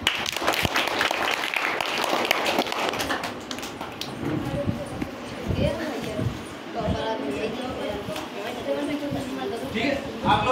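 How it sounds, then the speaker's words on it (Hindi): Children at a summer camp clap for classmates who performed an activity, a dense ragged patter of small hands with an adult voice talking over it, fading slightly partway then continuing. "इनके लिए तालियां बजाओ"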